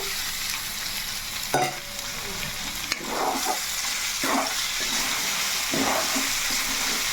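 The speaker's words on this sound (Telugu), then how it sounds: "ఇప్పుడైతే మనకి ఈ దోసకాయ కూడా వేగింది కాబట్టి చికెన్ అనేది వేసేసుకుందాం" Chicken pieces added to a pan of frying cucumber, a steady sizzle broken by several scraping stirs and clatters, fairly close and moderately loud.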